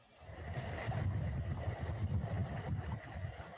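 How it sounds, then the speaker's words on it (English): Steady low rumble of water with wind noise, like waves washing nearby, continuous and fairly loud throughout with no voices. "Next to the sounds of the Low Country's calming waves"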